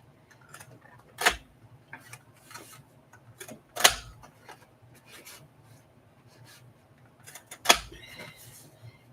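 Scissors cutting through vintage LA Times newspaper headline pages, three sharp crisp snips spaced a few seconds apart, with soft paper rustling and handling between them, close and fairly quiet.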